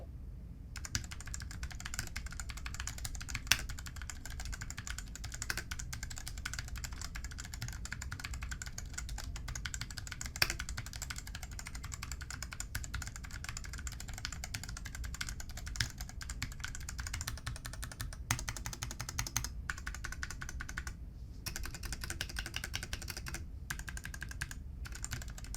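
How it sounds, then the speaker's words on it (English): Steady, fast typing on a TNSPECTRE 65% hot-swappable mechanical keyboard with stock brown switches, close-up clacks in a continuous stream with brief pauses near the end. "These are their brown switches as well. They do sound pretty good for some stock switches."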